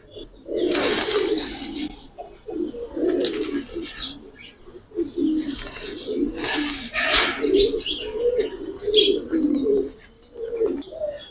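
Giribaz and coloured pigeons coo steadily inside a loft, a dense run of soft, rolling throaty calls overlapping close by across the whole stretch with brief pauses between bursts.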